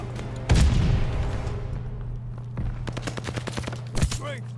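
A stun grenade goes off in a video game with a sharp loud bang followed by a rumbling decay, then scattered crackling shots and a second burst, with a low steady hum throughout.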